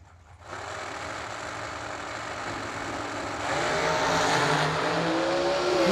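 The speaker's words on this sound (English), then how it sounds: "Robbie Gear hopes he's not going to need that nitrous" Drag race cars with nitrous roar off the line at a Christmas bash event, a sustained loud engine scream that swells and climbs in pitch as the cars pull away, heard from trackside.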